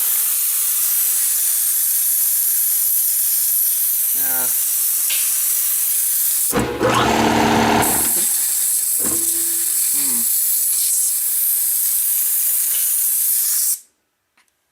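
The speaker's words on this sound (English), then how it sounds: "You can also hear it leaking back through the compressor here" Air compressor with a stuck valve hisses constantly as air leaks out, a loud broad steady rush broken by a few brief clunks and a louder burst midway, stopping abruptly near the end.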